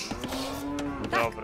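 Cattle in the Age of Empires 2 strategy game let out a long, clear moo with a tonal, drawn-out call, followed by a short second bovine sound, close and prominent.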